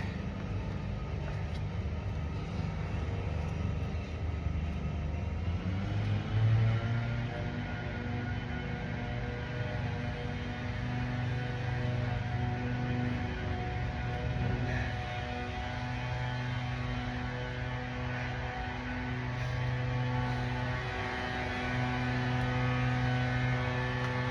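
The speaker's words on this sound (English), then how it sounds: "I don't know how annoying that blower is, but it's pretty annoying to me." A blower drones on continuously at low level through an outdoor workout of walking with heavy hands and sandbags, a steady hum with layered tonal lines and no pauses.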